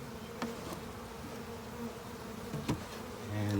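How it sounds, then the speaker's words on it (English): Honey bees buzzing around a newly installed hive in spring, a steady, soft droning hum with a few bees passing close by, heard alone. "there's a slot so the bees can still come in and out, as well as the front of the hive."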